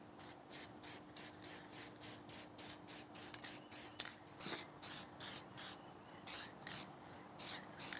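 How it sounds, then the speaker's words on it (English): A spray paint can hisses in a run of short, regular bursts, about two per second, close and fairly quiet, with no one talking. "So let's spray."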